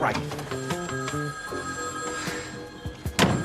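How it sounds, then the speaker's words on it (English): An office telephone bell ringing in a steady repeating pattern of trilling rings, moderately loud, with some other clatter near the end. "Answer the goddamn phone, shitstain."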